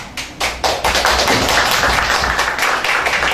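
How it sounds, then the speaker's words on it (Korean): Audience applause welcoming a professor onto the stage at a political talk concert, beginning with a few separate claps and swelling into dense, loud, sustained clapping close by. "박수로 환영해 주시기 바랍니다"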